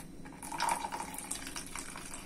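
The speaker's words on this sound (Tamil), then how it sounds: "லைட்டா தண்ணி கொஞ்சம் ஆட் பண்ணிக்கிறேன் நானு." Water is poured into a simmering paneer butter masala in a pan, giving a soft, faint, continuous trickling splash that lasts a couple of seconds, with no talking.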